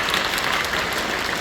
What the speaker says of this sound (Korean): 박수로 뜨겁게 환영해 주시고.